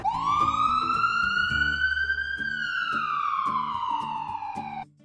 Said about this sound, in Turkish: Diş kliniğinde ambulans sesinin ne işi olur ki?